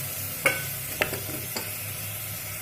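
Crab rasam base being sautéd and stirred in a pan with salt and turmeric, a low steady sizzle broken by three sharp spoon scrapes about half a second apart, close and fairly loud.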